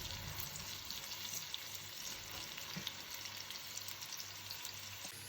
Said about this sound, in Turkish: Pembeleşinceye kadar soğanımızı güzelce kavuralım.